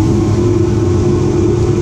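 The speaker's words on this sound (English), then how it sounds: "I'm just going to turn on the granulator now. First the blower" The blower of a plastic granulator runs up, giving a loud, steady low-pitched motor hum with a constant drone and no other sounds.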